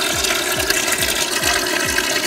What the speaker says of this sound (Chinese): 第一步，先把表面稍微清洗一下